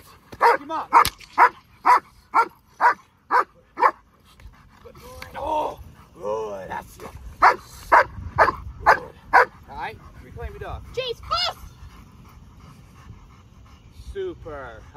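A German Shepherd at a protection training session barks in a quick run of sharp, evenly spaced barks, then whimpers and whines. More barking follows, close and loud, and a voice is partly mixed in.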